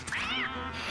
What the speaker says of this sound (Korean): 그리고 여기 고양이가 나왔어요.